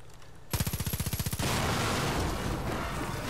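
Enemy gunfire at night in Far Cry 5 erupts as a rapid, evenly spaced automatic burst of a dozen or so shots, then dissolves into a dense roar of overlapping fire and blasts.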